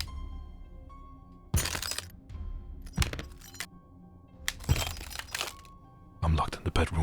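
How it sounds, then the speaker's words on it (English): Window glass shatters in several sharp, bright crashes at intervals, each burst trailing into tinkling debris, with a speaking voice in the quieter gaps. "A window shattered."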